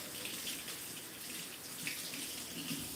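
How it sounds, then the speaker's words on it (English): Steady running tap water over a kitchen sink as hands are washed while cooking elote, a continuous close broadband splash with no pauses and no talk. "I'm gonna wash my hands while I'm doing this."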